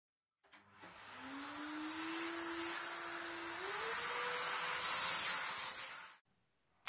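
A Bort BSS-1415-AQUA industrial vacuum cleaner with a water filter switches on and runs with a steady whooshing roar and a slowly rising motor whine, then shuts off after about six seconds.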